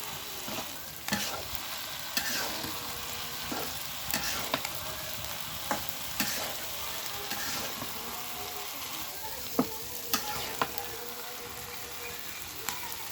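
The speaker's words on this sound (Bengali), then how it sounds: "বেগুন ভাজা হয়ে গেছে" Eggplant fries in oil with a soft, steady sizzle, broken by irregular clicks and taps of a utensil turning the pieces in the pan.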